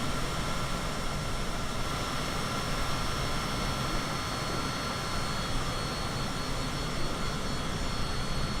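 A Cessna Citation CJ4 business jet in a flight simulator gives a steady, continuous jet engine drone with a broad roar and faint high whine, unchanging throughout and with no talking.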